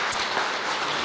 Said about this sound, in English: I think we got to give him a round of applause.